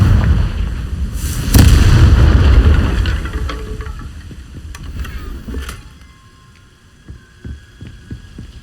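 Confringo fire spell explosion in the video game Hogwarts Legacy: a loud booming blast with deep low rumble near the start, then fading throbbing and scattered smaller thuds, no talking.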